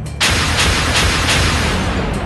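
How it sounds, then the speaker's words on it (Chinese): A thunderous explosion at the Fukushima nuclear power plant: a sudden loud broadband blast followed by repeated rumbling booms and a sustained roar, with no voices. "一声轰然巨响，顿时浓烟密布"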